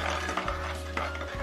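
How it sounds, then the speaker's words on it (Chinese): Minced garlic is stir-fried in a pan with quick scraping strokes and light clatter over a steady sizzle. The sound is brief and close, with no voices. "加入蒜末炒香，"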